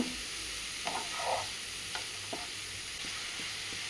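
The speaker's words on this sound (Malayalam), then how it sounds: "അപ്പോൾ നമ്മൾ അതൊന്ന് ഇളക്കി യോജിപ്പിക്കുക." Mushrooms and masala being stirred in a frying pan during mushroom curry cooking: a soft, steady sizzle with a few faint scraping strokes of the spoon, quiet and close, with no talk.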